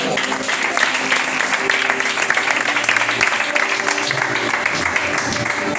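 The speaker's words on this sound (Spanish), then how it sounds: "Un aplauso a la palabra." A church congregation applauds during a sermon, a dense, continuous wash of many hands clapping at even loudness for several seconds, with voices mixed faintly underneath.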